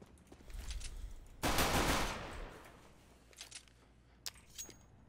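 A CS:GO gun battle: a burst of loud automatic fire erupts, then fades into scattered distant shots and faint clicks against a quiet background.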